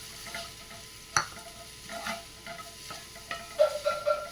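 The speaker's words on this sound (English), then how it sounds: "Now I am adding capsicum, grated carrots," Capsicum and grated carrots are stirred in a frying pan for a healthy breakfast, with soft sizzling under a few scraping clicks of a spoon against the pan.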